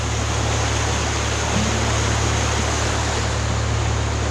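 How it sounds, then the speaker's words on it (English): A small creek along a wild coastal hiking trail rushes in a steady, continuous wash of flowing water, fairly loud and unbroken throughout. "It is a beautiful creek."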